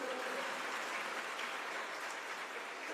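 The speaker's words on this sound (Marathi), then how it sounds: "जोरात टाळ्या वाजवा एकदा" Sustained audience clapping at a Marathi motivational event, a thick, rain-like patter of many hands that stays even and fairly loud for the whole stretch.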